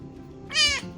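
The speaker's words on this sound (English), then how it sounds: "A very noisy kitty." A single short, bright meow from a cat, close by and clear against quiet background.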